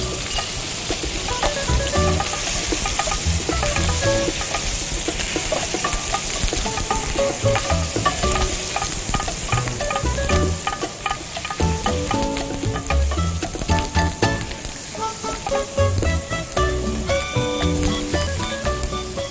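Cuttlefish frying in a hot wok with rice wine added, a loud continuous sizzle and crackle with stirring clatter throughout, close and steady with no talking.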